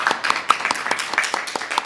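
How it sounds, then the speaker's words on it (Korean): Audience applause greets the chair of the Open Democratic Party's Open Equality Committee at a women members' education workshop in Gwangju and Jeonnam, a steady patter of claps from a small seated room, close and moderately loud. "박수로 맞아주세요"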